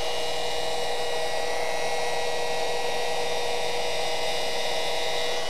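A polishing machine buffs a car hood, giving a steady, close, unbroken whirring drone with a constant high whine throughout and no talking.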